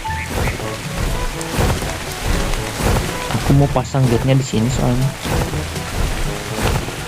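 Steady rain falls in the video game ARK: Survival Evolved, a constant broadband wash with rumbling thunder, under continuous talking.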